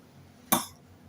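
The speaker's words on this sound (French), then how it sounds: "Il tousse encore un petit peu, ce bébé." A single short cough from an 11-month-old baby, close and fairly clear, against quiet room noise.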